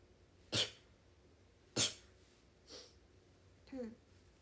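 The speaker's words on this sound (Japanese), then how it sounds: "くしゃみが出そう。" A young woman sneezes during a livestream: two sharp, close, quiet bursts, then a softer one and a final snort-like breath, alone in a quiet room.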